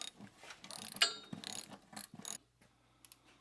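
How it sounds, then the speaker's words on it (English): Ratchet wrench snugging the last bolts on a Jeep during home maintenance, a run of quick close clicking bursts and rattles, then a quieter low hum with a few faint ticks. "just tightening off, snugging up the last bolt"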